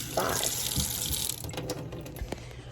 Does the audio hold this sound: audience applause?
no